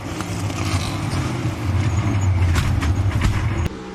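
Onboard sound from a NASCAR race car during a 2024 airborne wreck: a loud, continuous engine roar and road rumble that builds, then cuts off abruptly near the end.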